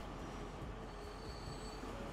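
Trains arrive at a station in the video game Transport Fever 2 with a steady rumble of rolling rail cars and faint wheel squeal, a continuous low wash of sound without pauses.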